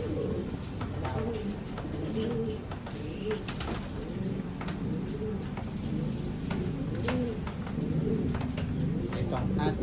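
Breeder pigeons in a pigeon loft, cooing in repeated soft, low rolling calls with occasional chirps and wing flutters, close and steady, while someone talks over them.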